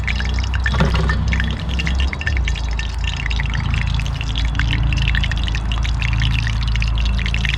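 Flour-coated crappie fillets fry in a pan over an outdoor fire, a loud and unbroken crackling sizzle with a bright hiss that holds steady throughout.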